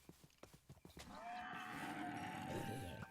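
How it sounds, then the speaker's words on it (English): Clip-clopping footsteps lead into a Minecraft cow being hit, its low drawn-out moo rising and sustaining faintly, with a quiet game ambience underneath. "Oh, poor cow."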